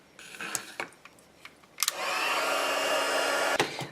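A heat embossing tool is switched on to melt embossing powder on a stamped card, a steady blowing whir that starts abruptly partway through and runs for under two seconds after a few light taps and handling clicks.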